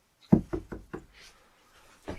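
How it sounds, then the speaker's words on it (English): Four sharp knocks on a wooden door in quick succession, fairly close and loud, followed by a short pause and a fainter fifth rap. "knocked on the door"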